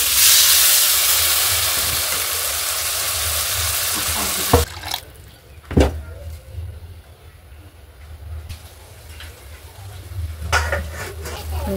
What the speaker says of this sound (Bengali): মশলাটা কষানো হয়ে গেছে, এখন জল দিয়ে দেব